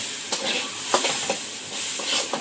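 Eggplant frying in a pan, a close, steady sizzle broken by several short scraping bursts of stirring, with no voices.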